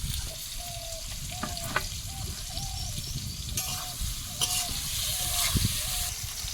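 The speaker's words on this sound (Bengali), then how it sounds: "এদিকে বেগুনটা ভাজবো" Eggplant fries in a pan with a soft, steady sizzle, while short tonal squeaks and a few light clinks come and go over it.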